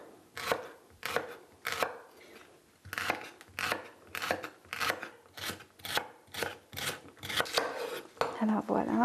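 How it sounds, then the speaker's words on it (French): A knife chops celery stalks on a cutting board at a diagonal, a steady series of crisp, close thuds in an even rhythm with a faint voice underneath. "Les branches de céleri seront également tranchées. Si on veut de plus gros morceaux, on peut les trancher un peu à la diagonale."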